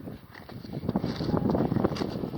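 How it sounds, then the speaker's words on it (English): High wind near the glacier on Pico de Orizaba, a steady, rumbling low roar buffeting the microphone throughout, swelling slightly louder toward the end, with no voices heard. "It's too windy for me."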